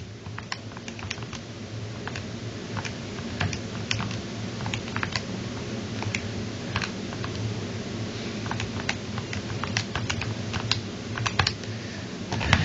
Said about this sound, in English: So go and type that into your calculator.